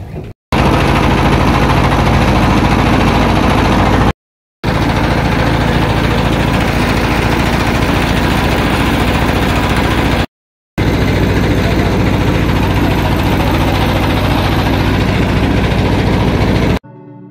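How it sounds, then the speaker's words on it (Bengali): An engine-powered boat crossing the Shitalakshya river, its motor droning loud and close at a steady pitch, with two short cuts into silence before the steady hum resumes. "এই নৌকা চড়ে আমরা শীতলক্ষাটা পার হব।"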